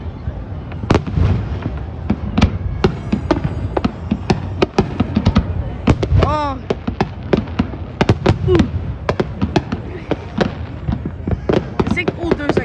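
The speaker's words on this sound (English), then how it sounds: "I think all those like baby fireworks at the bottom and like the adult fireworks at the top" New Year's fireworks over New Orleans pop and crackle in repeated bursts, with sharp bangs and a whistling rocket near the middle. Some sound close and others farther off, and onlookers react with brief exclamations.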